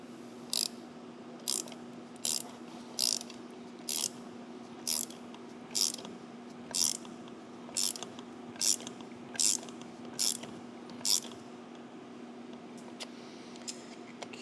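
A hand ratchet tightens down a part on a 2014 Harley-Davidson Street Bob, making a long series of crisp, close clicking bursts at a steady rhythm over a faint constant hum, then falling quiet near the end.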